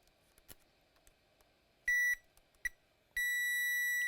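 A multimeter in diode mode beeps while probing a shorted circuit on an ASUS Strix Scar 2023 laptop board: a short beep, a brief blip, then a longer sustained tone, loud and close with no talk.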